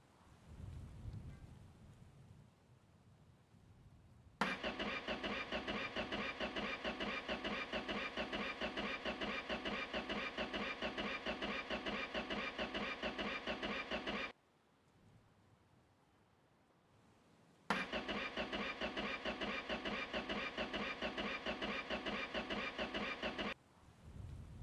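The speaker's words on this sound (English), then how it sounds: "Let's crank her over and see if she starts." A junkyard project car's starter cranks the engine over in two long, rapid, evenly pulsing bursts separated by a quiet gap. The engine never catches or runs.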